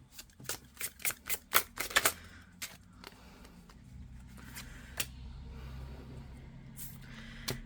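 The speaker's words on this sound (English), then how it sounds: "Can I get a card for Will Smith?" Tarot cards are shuffled by hand in a quick series of crisp riffling snaps, close and quiet, followed by a softer card draw and faint rustling over low background noise.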